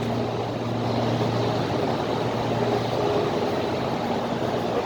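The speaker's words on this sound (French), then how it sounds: "Il va démarrer le brise-motte, le dernier grand moteur." Large electric motor of a brickworks clod breaker in a clay preparation area, a steady loud industrial hum with a low drone and faint tonal whine, continuous with no pause or talk.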